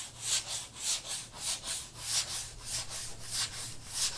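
Hand sanding of cured System3 Quikfair fairing filler: steady back-and-forth rubbing strokes, about two per second, close and fairly quiet, with no talking.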